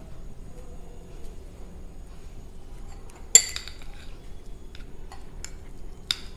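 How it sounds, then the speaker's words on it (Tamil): A spoon mixes grated carrot with tomato sauce in a bowl, giving a few faint scattered clinks and taps with one sharper knock midway against a quiet background. "இந்த கேரட்டை எடுத்து நம்ம வந்து இந்த டொமேட்டோ சாஸோடு சேர்த்து மிக்ஸ் பண்ணிடலாம்"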